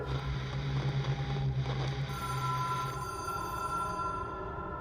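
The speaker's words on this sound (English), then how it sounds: "Yeah, follow the ringing, follow the ringing." A hotline telephone rings in the Control video game, a steady tonal ringing held under low ambient rumble, with no talking.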